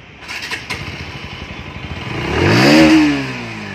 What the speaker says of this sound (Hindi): एक बार इसका गाड़ी का आवाज़ सुना देते हैं,